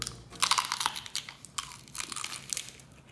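Bites into fried cream cheese crab rangoons give loud, close crunches, several brittle crackling bursts in quick succession as the crisp wrappers break.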